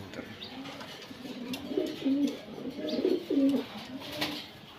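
Female choco racer pigeons coo close by in a series of soft, rolling, repeated coos that rise and fall, heard over a quiet background.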